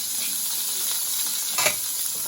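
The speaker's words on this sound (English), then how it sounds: "if you can hear me above the sizzling duck fat" Steady, loud sizzling of duck fat frying in a hot pan, a continuous crackling hiss with a brief louder spatter near the end.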